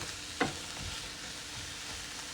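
Onions and leftover meat frying together in a pan for tacos, a steady low sizzle with a brief stir clatter near the start, close and moderately quiet, no voices.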